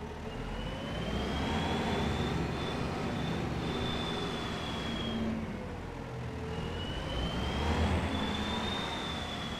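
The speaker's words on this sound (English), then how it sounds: "sounds like there's a bit of a turbo whine in there" Vehicle engine in Farming Simulator 25 runs steadily with a rising and falling high turbo whine over a broad rumble, swelling twice across the stretch, with no talk.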